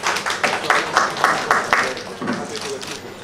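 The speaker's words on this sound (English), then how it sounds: "I think he should be given more than a clap" An audience claps for Mr. Raj in a steady burst of applause. The clapping is dense and fairly loud, with rhythmic pulses that ease off slightly toward the end.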